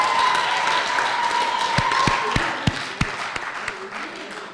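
Audience applause for high school student debate teams fills a hall, a steady wash of clapping that thins toward the end into a few scattered, distinct claps.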